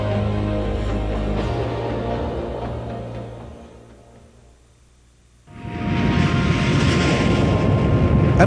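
Stealth military jet flying past, exhaust mixed with bypass air and blown through a wide rear slot: a loud steady engine roar that fades to a lull, then surges back as a broad, close rushing roar.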